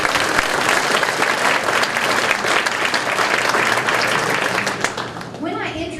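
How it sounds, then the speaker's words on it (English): A banquet audience at a teacher of the year event gives a big round of applause, loud and continuous many-handed clapping that fades near the end as a voice begins speaking. "So give them a big round of applause."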